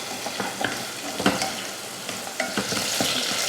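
Onions and green chillies sautéing in a pan, a continuous sizzle broken by repeated sharp spoon scrapes and clicks against the metal, close and fairly loud.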